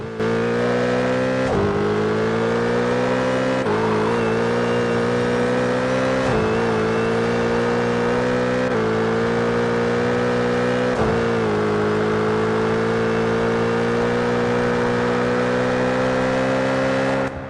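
A lowered, heavily cambered rear-wheel-drive BMW M3 wide body accelerating hard toward top speed on a snowy road, a loud sustained engine drone climbing in pitch through several gear shifts, steady and close throughout.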